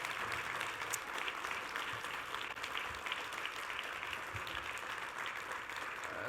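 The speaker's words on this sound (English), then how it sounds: "Will you give a round of applause to all these names here on the screen?" Quiet, steady round of applause from an audience at an evening talk event, continuous soft clapping heard from a distance with no voices over it.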